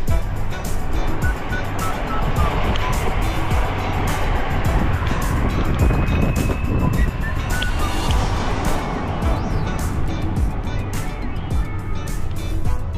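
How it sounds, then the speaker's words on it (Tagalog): Heavy road traffic on the way to Hallstatt, Austria, with a continuous rumble of car and engine noise heard from inside a vehicle, steady and fairly loud throughout with some clicking and faint background talk. "Grabe ang traffic papuntang Hallstatt city or yung center nila"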